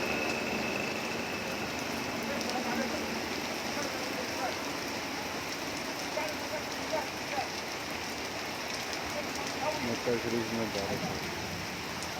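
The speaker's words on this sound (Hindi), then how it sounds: "सऊदी अरब जिद्दा में तेज़ बारिश का मंजर आप इस वीडियो में देख सकते हैं।" Heavy rain falls steadily in Jeddah, Saudi Arabia, a dense continuous hiss of drops on surfaces that holds at an even level throughout, with faint voices audible beneath it.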